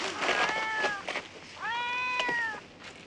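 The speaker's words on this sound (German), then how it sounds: "Schon wieder der Kater" A tomcat meowing in a 1966 Pater Brown television episode: two drawn-out, wailing meows with a short gap between them, fairly close and clear, with faint background noise.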